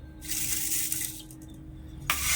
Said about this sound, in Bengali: এখানে তিনটে এলাচ দিয়ে দিলাম আর জল দিয়ে দিচ্ছি